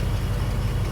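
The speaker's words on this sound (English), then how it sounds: "Engine's running fine." A 1990 Ford E-150 Econoline van with a 5.8L V8 idling, a steady low rumble close by with no talking.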